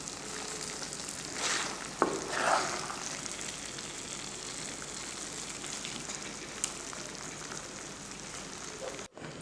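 Paneer butter masala gravy simmers in a covered pan, a soft, steady sizzling bubble throughout, quiet and close, with a couple of faint clinks and a brief scrape.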